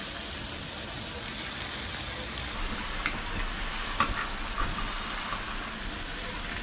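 A sausage sizzles and crackles in a frying pan during a camp cook-up, a steady broadband hiss with a few brief pops and ticks, fairly close and moderately loud, with no voices over it.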